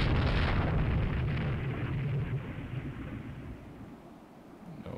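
Naval gunfire from the warship video game Rule the Waves 2 booms out as a loud, broad explosive rumble at the start, then slowly fades over several seconds with no talk.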